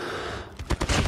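Rapid gunfire from a round of a bomb-mode shooter video game crackles in a few quick bursts over a constant noisy game background, moderately loud and close.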